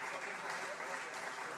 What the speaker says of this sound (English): a warm round of applause, of course, to our distinguished panel.